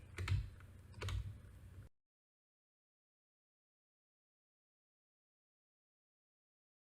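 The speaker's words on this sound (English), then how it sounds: "And now I can use my arrow keys to move this image." A few quick computer keyboard arrow-key taps, close and crisp, in the first two seconds, followed by silence.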